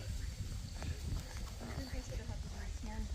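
Steady clip-clop of horse hooves on a Tennessee trail, close by, with voices talking over the rhythmic steps.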